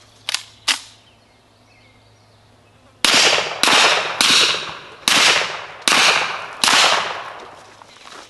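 Pistol shots from a 10mm RIA 2011 handgun at an outdoor range: two sharp reports, a pause, then six loud evenly spaced shots, each with a short ringing decay.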